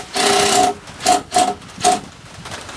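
A power drill drives 1.5-inch drywall screws into the top side of wooden legs on a DIY aquaponics garden build, giving one long whirring burst followed by three short spurts, close and fairly loud, with no talk.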